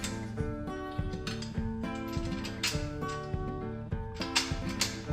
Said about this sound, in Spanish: lo que hago es ajustar la tuerca